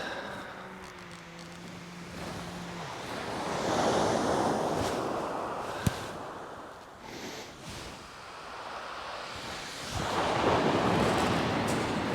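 Sea waves surge and break on Chesil Beach, a shingle shore, rising in two broad swells with steady wind noise over the microphone and no talk.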